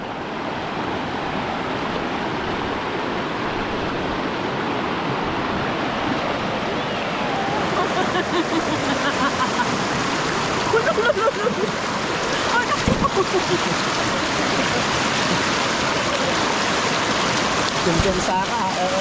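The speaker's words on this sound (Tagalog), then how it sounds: "Malakas yung agos niya guys, kaya madala ako." A strong river current rushes past outdoors, a loud, steady roar of flowing water that fills the whole clip. A voice speaks over the flow at moments.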